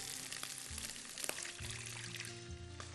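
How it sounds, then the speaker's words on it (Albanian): Water is poured into a pan of rice and zucchini cooking with dill, a soft continuous pouring and sizzling wash, fairly quiet and without talk. "ujnë e shtoj"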